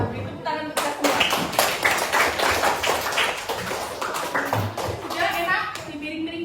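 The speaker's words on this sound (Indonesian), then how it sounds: "Sekarang kita beri tepuk tangan untuk kita semua." A class of students claps together in a classroom, a loud burst of many hands that starts abruptly after a brief pause and continues steadily, with some voices mixed in near the end.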